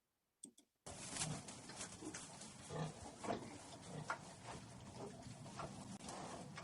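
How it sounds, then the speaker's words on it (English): Pigs grunt and oink softly over farm background noise, preceded by a brief quiet start, all heard in a played-back video clip. "I should see my cats, I should hear some pigs"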